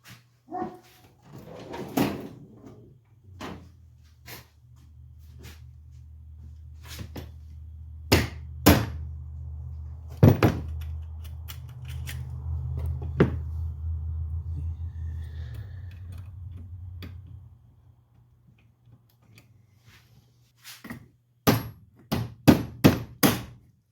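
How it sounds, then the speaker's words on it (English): Sharp metallic hammer strikes on a Husqvarna 550XP chainsaw's clutch cover parts ring out repeatedly, some spaced and some in quick bursts, over a steady low hum from nearby machinery. "Let's get me a hammer and hit that."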